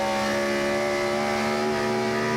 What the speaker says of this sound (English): Wheel spin for both those cars,